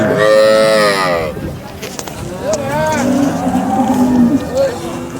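A milking cow at the Sangola cattle market gives a loud moo right at the start, then further lowing follows amid market chatter, with people talking nearby.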